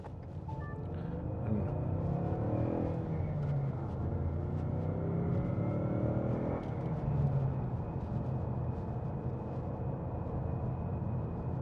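A car engine runs steadily just after starting, a low continuous rumble heard from inside the car, without speech.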